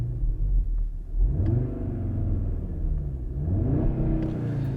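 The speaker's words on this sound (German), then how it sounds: "Bin mal ruhig und gebe kurz Gas, spiele die Klaviatur kurz durch" A 2020 Audi RS Q3 Sportback with a 400 PS engine in sport mode blips its throttle while stationary, two rising revs swelling over a deep idling rumble, close and loud.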